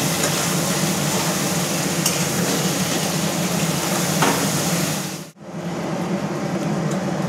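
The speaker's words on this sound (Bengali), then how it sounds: "এবারে এগুলোকে ভালো করে নাড়াচাড়া দেওয়া হবে" Egg curry ingredients being stirred in a pan, giving a steady close scraping and sizzling texture that runs without a break, then cuts out briefly near the end before resuming.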